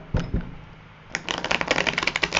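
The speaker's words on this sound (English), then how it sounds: "We're going to go ahead and do another rifle and another shuffle." Tarot deck riffle-shuffled by hand, a couple of soft taps and then a quick, close burst of fluttering card clicks as the halves interleave, no talking.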